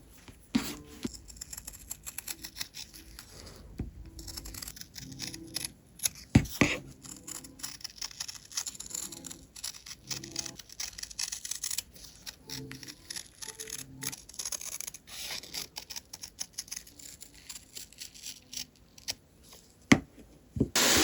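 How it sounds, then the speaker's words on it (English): Scissors cut along drawn lines through fabric scraps for a Christmas robin craft, producing repeated close snips and rustling handling of cloth, intermittent and fairly soft, with no talking. "Once that's done, carefully cut them out along the lines."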